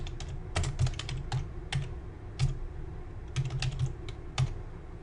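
Keys on a computer keyboard are typed close up in quick, uneven bursts with short pauses between them, as a team ID and password are entered. No one speaks.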